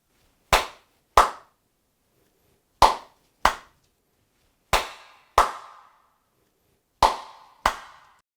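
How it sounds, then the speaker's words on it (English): Eight sharp single hand claps ring out in a quiet, reflective room with hard surfaces such as vinyl tile floors or stone walls. They come in loose pairs, and each one leaves a short decaying echo. "you may check the reflection by clapping hands"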